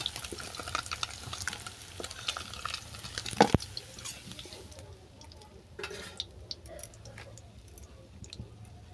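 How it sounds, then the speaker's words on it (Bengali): Small mourola fish, fried brown, are lifted out of hot oil in a kitchen pan as a steady sizzle runs throughout, with a sharp metallic clink near the middle and the frying hiss thinning slightly toward the end. "এগুলো আমি তেল থেকে নামিয়ে নিচ্ছি"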